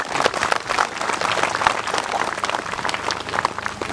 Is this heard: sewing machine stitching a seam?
no